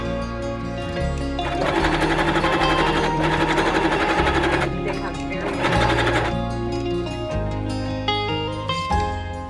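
A sewing machine stitches a fairy dress made from an upcycled duvet cover, running in loud rapid bursts that start and stop several times, close by with a steady mechanical rattle.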